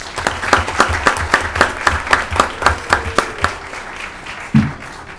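A round of applause at a Union County freeholder meeting in New Jersey, individual claps distinct and rhythmic, fairly close and loud, thinning out toward the end with a low thump near the close.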